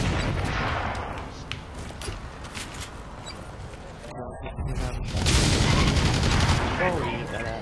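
Shotgun fire in the shooter game Blacklight: Tango Down during a deathmatch, loud and dense blasts filling the mix with a short gap partway through, under a player's commentary.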